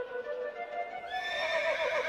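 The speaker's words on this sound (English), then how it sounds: "With his racehorse, Incitatus." A racehorse whinnies in one long, loud neigh that rises and wavers toward the end, heard close and alone with no talk over it.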